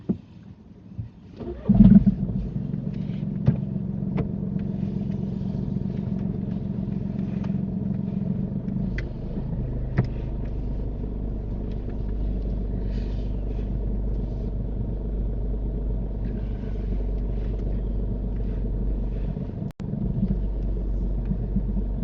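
A car reversing slowly out of a parking bay during a mock driving test, heard as a steady low engine rumble from inside the cabin with a brief thump near the start and no talking.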